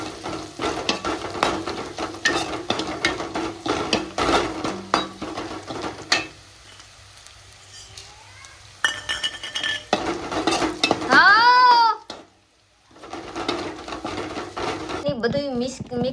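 A spoon stirs and scrapes samosa filling with chilli and garlic paste in a pan, making rhythmic clinks and scraping against the metal, with gaps and a voice speaking at times.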